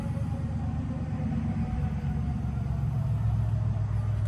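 The engine of a 1983 Hurst Olds, parked since 2002, runs with a steady loud low rumble and a faint whine above it, close by, with no talk.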